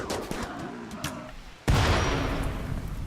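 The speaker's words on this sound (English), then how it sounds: "our people really need to get better at shooting" Colonists fire guns in the video game Rimworld, with sharp shots crackling in quick succession, then a heavier boom that jumps in loudness and rumbles on through the rest.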